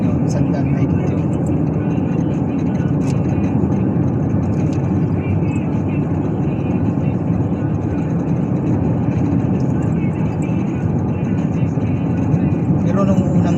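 A motorcycle speeds past on a road, a loud steady engine roar holding for the whole stretch with constant traffic-like rumble underneath and a voice talking over it.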